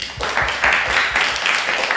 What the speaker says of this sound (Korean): 오늘 처음인데도 끝까지 자리를 지킨 우리 지영이를 박수 한번 줍시다.